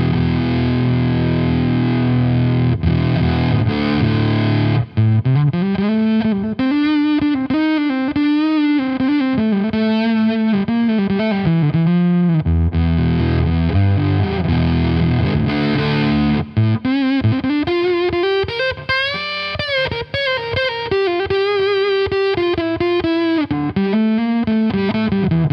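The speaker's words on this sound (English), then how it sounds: "So for a fuzz pedal, it's got quite a bit of attack as well." An electric guitar through a Krachwerke LedBelly fuzz pedal plays sustained, bending lead notes and thick chords, heavily fuzzed, gritty and saturated, filling the whole stretch without any talking.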